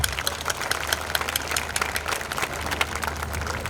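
An audience at a school annual day applauding the kids, with dense, sustained clapping from a large crowd heard at moderate distance, steady and continuous without a break.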